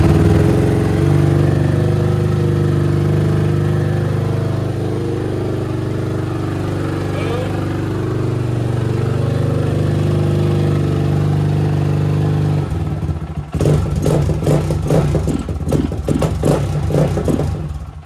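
A 2002 KTM 520 MXC motorcycle engine idles steadily with the choke on, a close, continuous low drone, then blips and revs in short, sharp bursts near the end.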